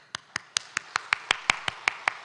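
Students applaud at the close of a church lecture, a sparse run of about eleven distinct claps in a steady rhythm, fairly close and dry with no talk.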